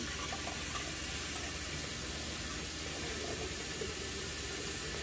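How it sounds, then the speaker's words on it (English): Tap water pours steadily and loudly into a vase, a continuous rushing, splashing flow that runs throughout without pause or speech. "I wanna fill this vase up with some water."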